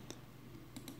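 Computer mouse clicks while working on a Pakistani online passport renewal form: three sharp, quiet taps, one early and a close pair near the end, over faint room hum.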